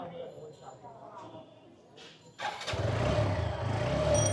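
A 4V motorcycle engine cranks and fires after a quiet stretch of faint background noise, then runs at a steady, close idle while warming up.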